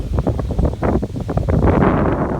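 Strong cold wind buffets the microphone in heavy low gusts on a cattle farm, rumbling continuously and loudly outdoors with no voices.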